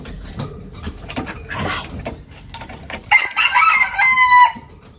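A pet rooster named CuBin crows once, close and loud, near the end after some clucking and rustling, with a few short outbursts before the crow.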